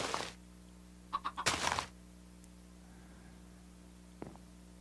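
Chickens in the video game Dexteram Tunnelers give a few short clucks in a quick cluster, with a faint low hum underneath and a single soft click near the end.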